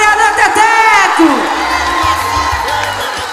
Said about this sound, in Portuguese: Uma salva de palmas para o nosso vereador Teteco!